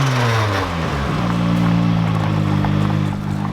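Mazda MX-5 1.6 turbo running again on four cylinders, a close, steady engine drone with a brief dip in pitch and small throttle changes.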